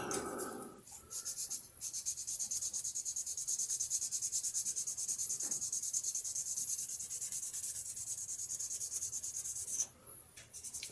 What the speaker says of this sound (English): So now one thing about this kind of sanding here is this is going to show you where all your heavy scratches are